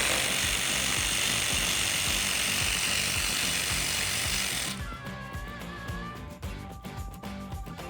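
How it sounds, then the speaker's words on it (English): A 10mm socket works a bolt out of a 2016-2021 Toyota Tacoma headlight, beginning with a loud, dense whirring drive that cuts off halfway, followed by quieter close clicking and rattling. "we can use our 10mm socket and remove that"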